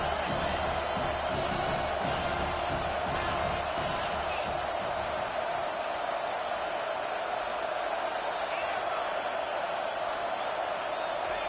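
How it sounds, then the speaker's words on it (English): Steady roar of a big college football crowd at Penn State against Florida State, a dense wash of voices filling the whole stretch with a few sharper bursts early on. "The roar of the crowd trying to fuel this defense."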